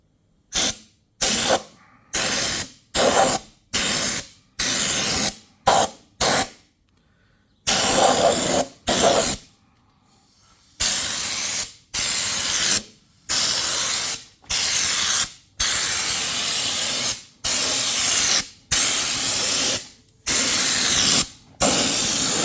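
A spray gun applies underseal to the underside of a Ford Focus ST225. Short, loud hissing bursts repeat at an uneven pace with brief silent gaps between them, and no voices are heard.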